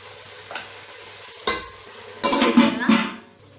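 Onions sautéing in oil with mint and coriander for a mutton dish: a low background sizzle broken by several loud scraping stirs of a spoon in the pan, the strongest bursts coming late.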